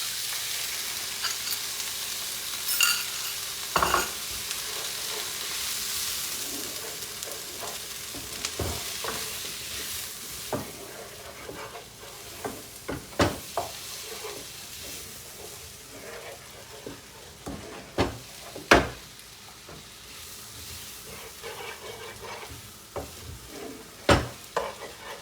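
Eggs fry in a hot pan with a steady sizzle while a utensil stirs and scrapes them now and then, making scattered clicks and knocks against the pan.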